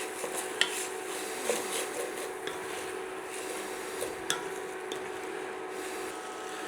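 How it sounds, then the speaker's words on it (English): Borlotti beans and onion sauté in a pan while a spoon stirs them, soft steady sizzle with occasional clinks and scrapes against the pan, quiet and close with no talk. "We're just going to saute these off for a few minutes. Give them a good mix in."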